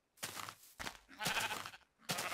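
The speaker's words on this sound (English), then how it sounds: "if these sheep will shut up, I'll tell you" Sheep bleat loudly and repeatedly in the Minecraft mod Jurassiccraft, four separate bleats in quick succession with short gaps, close and clear with no talk over them.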